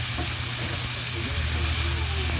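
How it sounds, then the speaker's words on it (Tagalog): Sauce for fried galunggong stirred and mashed in a hot cooking pan: a steady, loud sizzle and frying hiss runs throughout, with faint scraping and stirring movement beneath it and no pauses. "halo haloin lamang po ng bagya. At pisat-pisatin po natin ito kapag ito ay luto na hanggang sa ito ay madurog"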